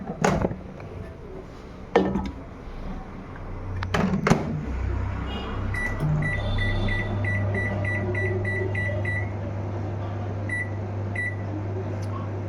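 A microwave oven starts up after a few door and button clunks, then hums steadily with a low drone while a regular series of faint beeping tones sounds over it.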